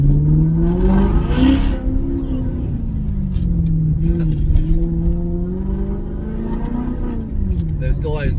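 Maserati GranTurismo S engine revving, a loud close rumble whose pitch climbs and falls through several rises over the whole stretch, with a steady low drone underneath.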